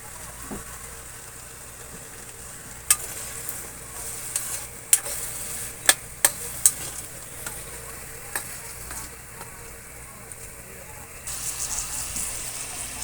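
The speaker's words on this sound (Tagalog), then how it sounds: "Gisa-gisa muna natin" Chicken sizzles and fries steadily in a pan, with a few sharp clinks of a utensil against metal and occasional stirring.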